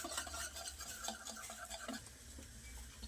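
Dhokla batter being stirred after adding Eno, a faint, close scraping and tapping of a spoon against a bowl in quick irregular strokes, with no talk.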